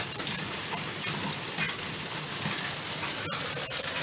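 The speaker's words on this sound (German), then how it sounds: "Scheiße, es hagelt sogar." Hail pounding down during a hailstorm in Hungary, a steady, dense hiss of countless stones striking a car and its windscreen, continuous and fairly loud with a few sharper hits, no speech.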